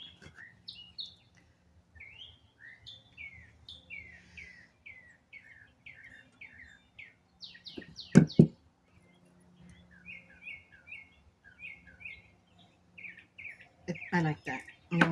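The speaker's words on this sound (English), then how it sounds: "Hear the birds? So pretty." Birds chirping and singing outdoors, bright repeated tweets and trills scattered across the stretch, with a couple of louder bursts and faint low background noise.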